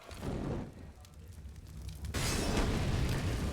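Grenades go off on the Counter-Strike map Dust2 during a competitive match, a muffled rumbling burst followed by a sudden louder blast that roars on with crackling fire, close and dense.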